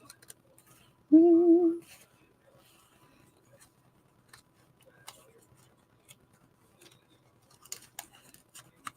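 Scissors make a single short close cut during a craft project, a brief crisp snip standing out against an otherwise quiet background with faint small ticks and clicks.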